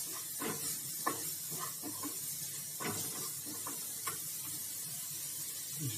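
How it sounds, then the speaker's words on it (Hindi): Sliced onions frying in oil in a pan until golden brown, a faint steady sizzle and hiss with occasional soft crackles and clicks of stirring, quiet and close. "इसको गोल्डन ब्राउन होने तक प्याज को पकाएंगे"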